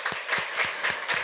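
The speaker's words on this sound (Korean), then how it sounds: "우리 자리 한번 일어서 주시면 박수로 한번 환영하겠습니다." Church congregation clapping in unison to welcome standing members, a short burst of rhythmic, evenly spaced claps from a crowd in a worship hall.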